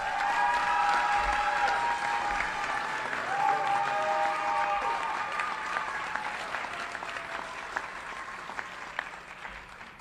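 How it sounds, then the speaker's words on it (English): A community audience at the 2025 Galesburg Athletic Hall of Fame induction applauds for an inductee, steady clapping that fades gradually over ten seconds, with a few faint tones and some murmured talk underneath. "let's give her a warm round of applause"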